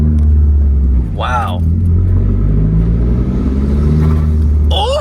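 A Dodge Neon SRT-4 engine rumbles loudly and steadily up close, a deep throaty truck-like drone, while a person briefly exclaims over it.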